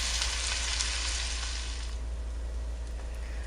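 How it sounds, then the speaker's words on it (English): Uncooked rice sautéing in butter with raisins in a pan, giving a steady, close sizzle that fades slightly partway through, with no talking. "You want to add it down in there and saute it with the butter and the raisins."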